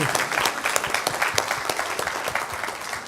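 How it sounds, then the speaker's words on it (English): Steady applause from a lecture audience, many hands clapping in a dense, even wash that keeps going without a break. "You can clap yourselves now, we're at the end."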